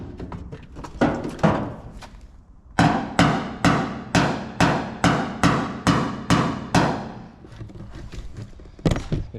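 Loud metal hammer blows on a 1967 Chevelle's left quarter panel, worked with a hammer and dolly: a few irregular strikes, then a steady run of about ten evenly spaced ringing hits, then a few more, close up.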